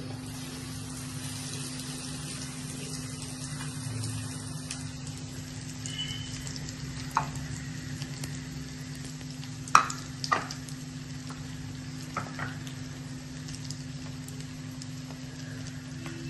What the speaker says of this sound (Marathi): त्या ब्रेड क्रम्स मध्ये बुडवून जरा घोळवून सारखे तेलामध्ये सोडायचे